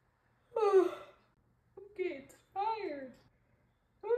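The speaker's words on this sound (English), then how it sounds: "Can't stop yawning because it's late" A woman yawning late at night, several drawn-out voiced yawns and sighs, close and fairly quiet, separated by short silences.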